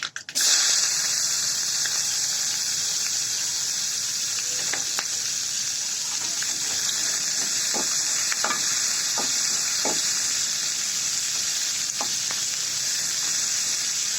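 Cumin seeds hit hot oil in a pan with a sudden burst, then a loud, even, close sizzle hisses on steadily, broken by a few small pops and crackles.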